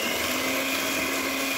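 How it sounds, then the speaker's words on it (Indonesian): An electric mixer whirs steadily as it beats eggs into a mini steamed cake batter, a continuous, even motor drone at close range with no talk. "Dan kemudian kita akan mengocok adonannya."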